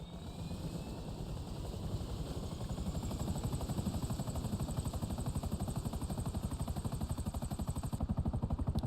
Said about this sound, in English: It's got a helicopter here.